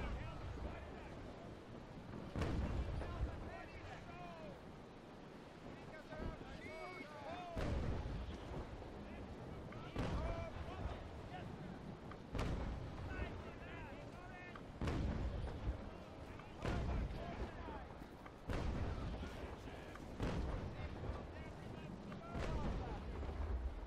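Ship cannons booming in a naval sailing battle in the Naval Action game, a series of heavy broadside blasts at irregular intervals over wind and sea noise, with someone talking in between.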